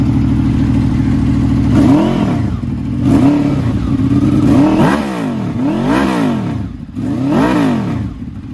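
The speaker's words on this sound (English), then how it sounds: "sounds like we've got the DB killers in there" Revving of a 2003 Honda VFR motorcycle engine fitted with dB killers, close and fairly loud, with several rising-and-falling throttle blips over a steady idle.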